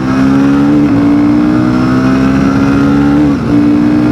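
Royal Enfield Himalayan 450 motorcycle engine held hard in first gear, a loud close steady drone that rises slightly and dips briefly near the end.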